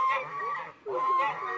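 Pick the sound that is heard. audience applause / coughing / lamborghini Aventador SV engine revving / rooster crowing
rooster crowing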